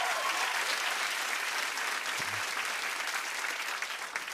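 A stand-up comedy audience claps steadily and fairly loudly for about four seconds, a dense even patter of many hands that fades slightly at the end.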